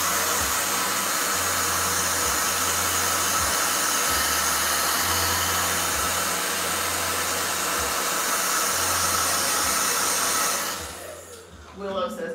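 A hair dryer blows loudly and steadily at close range, then cuts off near the end, leaving a few faint rustles.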